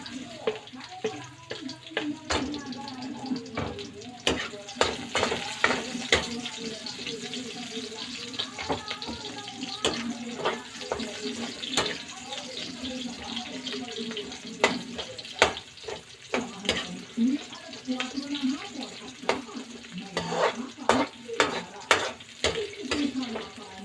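Garlic and onion frying in a pan for pancit bihon, a soft steady sizzle with scattered crackles and stirring clicks, fairly quiet, with a voice talking over it.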